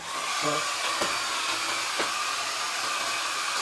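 A hair dryer blows steadily on a watercolor painting of a village scene with huts and trees, a loud, close, constant airy whoosh with a couple of faint clicks and no talking.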